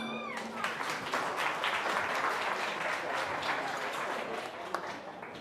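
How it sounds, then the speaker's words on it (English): Sustained audience applause at a tech company's anniversary celebration in Singapore, steady and full with a few sharper claps, while a voice speaks briefly at the start and faint crowd murmur sits underneath. "Please give him a round of applause."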